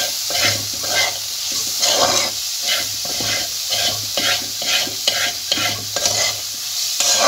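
Chopped coconut with chilli frying in a pan, stirred continuously so the spoon scrapes rhythmically over a steady, close sizzle.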